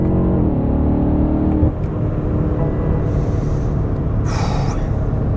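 A BMW M8 Competition's 625-horsepower 4.4-liter twin-turbo V8 drones steadily at close range while driving, a low rumbling hum with a brief rise in pitch early on, continuous throughout.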